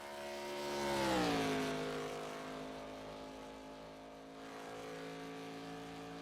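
Race car number 27 lapping Talladega Superspeedway in a racing video game, a loud, steady engine drone that swells as the car sweeps by, its pitch sliding down, then settles into a sustained whine with no talk.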